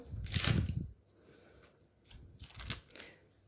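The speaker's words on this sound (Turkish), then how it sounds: "Şimdi bantlarımızı çıkartalım." Two bursts of crackly, tearing sound as tape is peeled off a glass Nutella jar, close up, the first longer and louder, a quieter stretch between them, with no talking.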